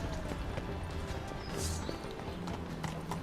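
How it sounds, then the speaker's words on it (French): A horse's hooves clip-clop steadily in The Witcher 3: Wild Hunt, soft and rhythmic under a dense game soundscape, with a brief high whine partway through. "Voilà, cheval."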